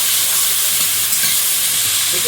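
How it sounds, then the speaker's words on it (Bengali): Potatoes frying in a pan in a rural Sundarban kitchen, a loud continuous hiss and sizzle of oil steady across the short stretch, with no voices. "আলু ভাজা হচ্ছে"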